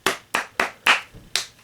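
Hands clap five times, sharp, loud and close, in a steady rhythm, with a faint half-clap between the fourth and fifth.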